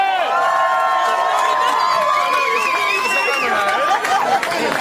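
A London crowd cheering and applauding, dense overlapping shouts, whoops and high excited voices forming a loud continuous roar with claps mixed in.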